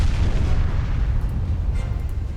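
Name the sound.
torpedo hits exploding on a ship in a naval video game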